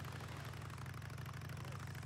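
Motorcycle engine idling in the video game Days Gone, a steady low rumble holding even and unbroken throughout at moderate, constant level with no talk.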